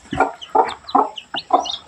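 Young coloured chicks give four short clucking calls in quick succession, close by and fairly loud.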